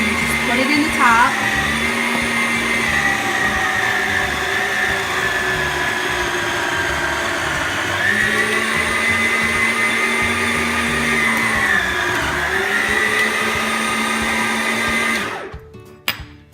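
A loud blender grinds frozen banana halves and strawberries into soft-serve, its motor whining steadily with slight pitch dips as the load shifts, then stopping near the end.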